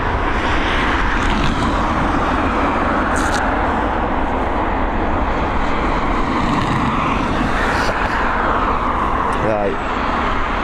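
A passenger airliner taxis after landing at Dublin Airport following a flight from LAX, its jet engines giving a loud, steady broadband roar that stays constant throughout.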